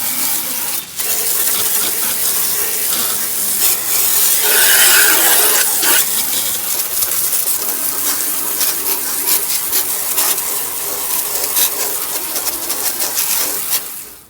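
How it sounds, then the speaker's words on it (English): A garden hose sprays steadily across a scrubbed wooden deck, producing a loud, continuous hiss and patter of water that holds unbroken throughout, with faint scraping and dripping textures mixed in. "now you want to rinse it with a hose."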